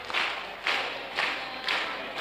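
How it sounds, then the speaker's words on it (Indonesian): Church congregation clapping in time while singing, soft rhythmic group claps landing roughly every half second under a blurred wash of voices. "Sambil tepuk tangan kita menyanyi setia-setialah"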